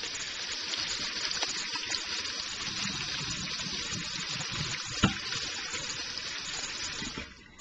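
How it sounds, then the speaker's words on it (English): Hot water runs steadily from a tap in a continuous rushing hiss that stops abruptly near the end. "what I'm going to do is I'm going to run the hot water"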